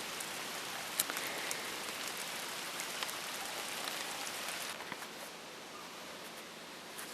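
Steady rain falls across a surface in a dense, continuous hiss with scattered distinct drops, easing slightly toward the end.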